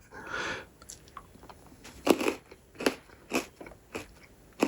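Crunchy chocolate-covered honeycomb bites are eaten up close, a series of sharp cracking bites and crunchy chews spaced about a second apart.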